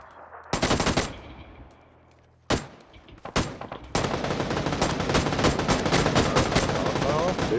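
PUBG: Battlegrounds gunfire: a loud automatic burst, a pause, then sharp single shots and a sustained heavy stream of rapid fire, with a voice talking briefly among the shots.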